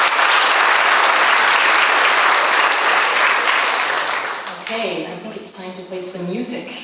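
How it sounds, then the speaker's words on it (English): An audience at a school spring concert claps loudly and steadily. The applause thins and fades toward the end as voices and tones emerge. "So can we give a round of applause for everybody, please?"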